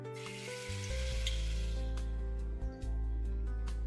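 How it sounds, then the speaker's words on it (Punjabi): Tikki patties shallow-fry in a little oil, giving a steady soft sizzle with a low hum underneath and faint crackles, with no talking over it. "ਤੇ ਇਹਨੂੰ ਹੁਣ ਆਪਾਂ ਫਰਾਈ ਕਰਦੇ ਹਾਂ"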